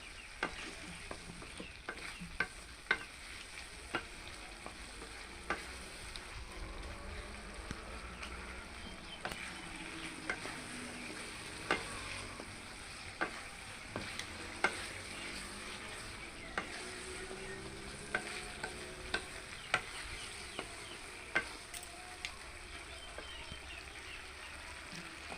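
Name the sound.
shrimp being stir-fried in a pan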